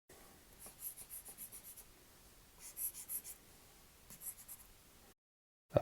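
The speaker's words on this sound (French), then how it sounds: "Vous prenez le trait épais et vous allez colorier comme ça." A thick highlighter stroke colors across a Kindle Scribe screen in soft, faint scratchy rubs, a few short bursts of quick back-and-forth strokes close by, then silence.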